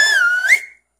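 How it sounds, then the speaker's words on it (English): A loud, piercing finger whistle made with fingers in the mouth, a single sustained high tone rising sharply near the end before cutting off abruptly, alone with no talk. "they take their fingers and they stick them in their mouth and they just make that super loud whistling sound"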